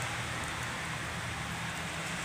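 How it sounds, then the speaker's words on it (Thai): Continuous heavy rain hisses and patters evenly, a dense wash of drops with no pauses. "ก็ฝนตกแรงมากเลยครับ"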